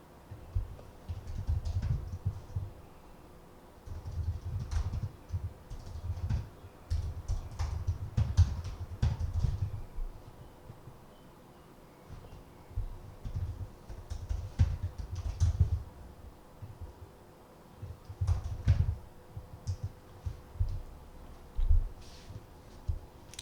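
A computer keyboard is typed on in bursts of quick, close clicking, with short pauses between runs of keystrokes, fairly quiet in a still room.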